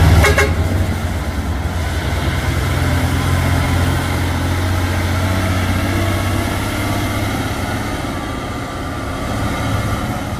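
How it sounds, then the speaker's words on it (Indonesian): Hino tanker trucks climb a steep hill on Bukit Kodok with engines droning loudly and steadily. Horn toots come through early, all close by, with no talk. "Dua unit truk tangki Hino."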